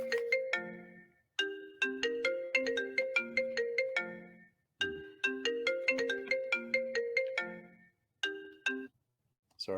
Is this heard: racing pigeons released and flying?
no